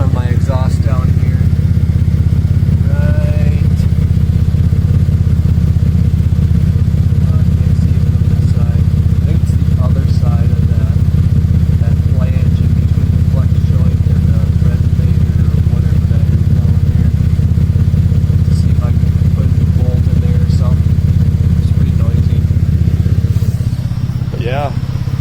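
A 2008 Saturn Aura engine runs steadily up close with a loose exhaust bolt, giving a continuous loud low rumble with faint metallic ticking on top, then easing off near the end.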